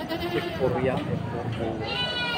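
Boer goats bleat with wavering, nasal cries over a person talking nearby.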